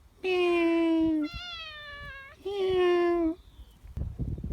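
Three long, drawn-out meows in a row, loud and close, each wavering slightly in pitch, with brief rustling after the last one.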